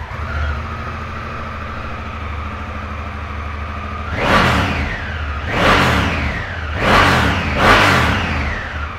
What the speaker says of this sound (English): So I'll give it a quick fire up for you because they sound pretty fruity.